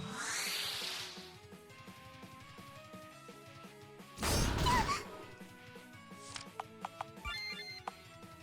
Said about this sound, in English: Special sword attack.